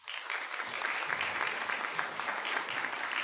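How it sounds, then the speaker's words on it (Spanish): Steady, dense applause from a sizable crowd at an academic symposium, clapping continuously at an even level for a few seconds with no voices over it. "agradecemos al profesor Damaso Ramírez con un fuerte aplauso"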